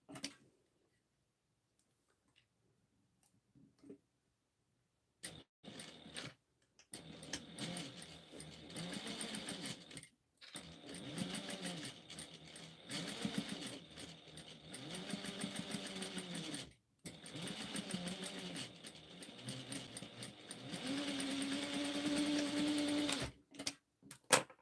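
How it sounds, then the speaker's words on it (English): A sewing machine stitches coasters with a quarter-inch seam, running in a fast, steady mechanical whir broken by short pauses between bursts, close and clear after a quiet start. "we're going to sew this out with a 1/4 of an inch seam allowance"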